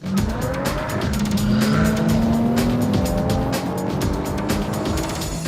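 A Lotus Evora S sports car with the IPS automatic gearbox drives hard on the Lotus test track. The engine note stays loud and close, rises and falls as the car accelerates, and the tyres squeal through the corners.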